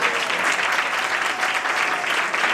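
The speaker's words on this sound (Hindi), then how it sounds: "जोरदार तालियां बजाएंगे और उनको वेलकम" Dense, steady applause from a worship-night audience welcoming a ministry group in Pakistan, a continuous wash of many hands clapping at even loudness throughout.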